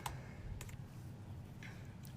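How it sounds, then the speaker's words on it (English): Sparse, light clicks at close range over a steady low hum, a few isolated taps spread apart like keys or a trackpad being pressed. "you're going to hear clicking noises"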